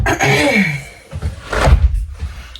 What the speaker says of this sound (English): I gotta close this door.